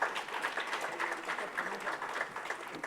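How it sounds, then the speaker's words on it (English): A forum audience applauds a panelist, the president of a chefs' guild, as she is called up: sustained crowd clapping heard from a distance, even and continuous throughout. "Please give her a big round of applause."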